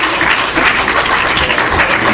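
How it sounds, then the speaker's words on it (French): A congregation applauds a guitarist during a church worship gathering, with dense, steady clapping that stays loud and even throughout. "Un applaudissement pour Frère Fayot."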